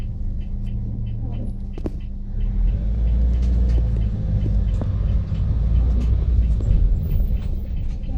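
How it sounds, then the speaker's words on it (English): A car drives through a Brazilian favela, its steady low engine rumble and road noise growing louder after the first couple of seconds, with scattered knocks and faint background sounds over it. "now we're driving"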